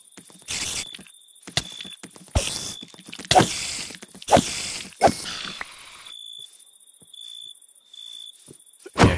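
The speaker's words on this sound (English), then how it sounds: "So you can hear the sounds now, the crickets" Steady high-pitched Minecraft cricket chirping runs throughout, mixed with intermittent clicks and thumps of game effects; fairly close and moderately loud, with no talking.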